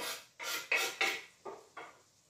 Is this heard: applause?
no